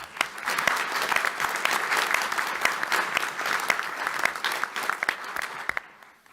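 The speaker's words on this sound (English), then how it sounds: "Let's give her a big round of applause." An audience gives sustained, dense applause that fades out at the end, with no voices standing out above it.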